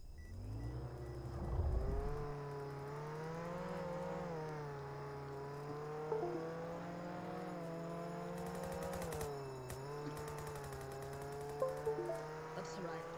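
A Ford Explorer drives in Roblox Jailbreak, its steady engine drone holding a level, slightly wavering pitch with brief revving rises, running continuously throughout.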